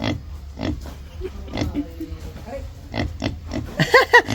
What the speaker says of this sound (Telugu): ఇక్కడ పంది ఉందంట, చూపిస్తా.